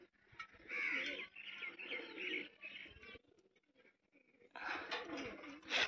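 A pigeon caught in a net gives fluttering calls and soft coos in two close bursts with a short lull between them.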